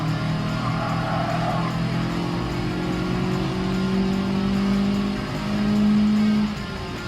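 A lightweight Honda kei car races in Gran Turismo Sport, its engine droning and rising in pitch through gear changes, loud and continuous with slight tire noise.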